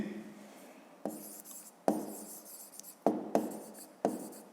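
Handwriting on paper, close and quiet, with five or six sharp pen strokes at irregular intervals, each followed by a soft scratching trail.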